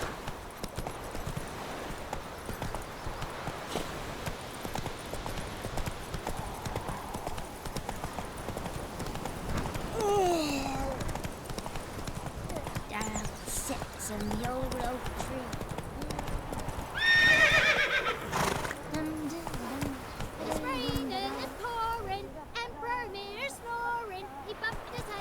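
A horse in The Witcher 3 video game gallops with continuous rapid hoofbeats and lets out whinnies and neighs, mixed with in-game voices speaking over the steady drumming gait.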